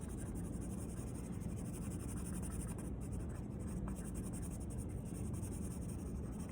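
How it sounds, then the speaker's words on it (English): White charcoal pencil shading across paper, with the tip held roughly parallel to diagonal strokes: a steady, continuous dry scratching that runs unbroken and fairly soft throughout, with no voices. "So I'm shading, kind of keeping the tip of this pencil somewhat parallel to these diagonals."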